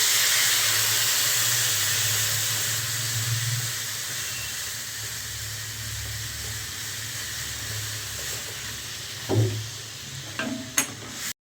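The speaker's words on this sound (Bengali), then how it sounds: "এবার আমি জল দিয়ে দিচ্ছি।" Water poured into hot cumin paste in a pan for a bitter gourd and potato curry with baan fish, giving a steady broad sizzling hiss that holds close and loud, with a few sharp clinks near the end.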